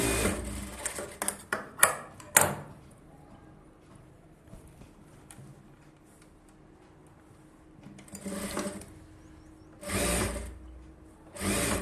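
A sewing machine roughly stitching a folded three-quarter-inch hem on a collar-neck blouse, running in several short loud bursts near the start and again near the end, with quiet pauses between.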